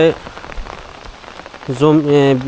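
Rain patters steadily over crop fields, then a loud, drawn-out voice-like call cuts in over it toward the end.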